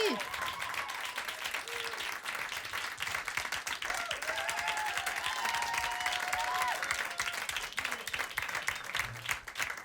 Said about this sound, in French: De Vince le Mariachi, on l'applaudit très très fort